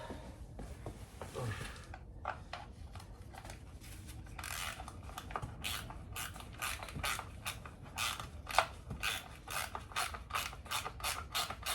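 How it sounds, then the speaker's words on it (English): A hand ratchet tightening a bolt on a Mk2 Escort RS2000 rear axle, a long run of quick rhythmic clicking strokes, close and fairly quiet, with no talking. "Let's get my ratchets and we'll tighten that up."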